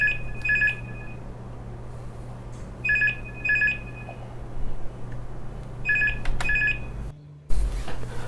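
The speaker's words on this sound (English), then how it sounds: "So now I'm dialing my phone from my mobile phone, and there you go, you've got the call on this handset." A Beetel X70 cordless landline handset rings for an incoming call in bursts of bright electronic trills that repeat every few seconds over a low steady hum, then cut off abruptly near the end.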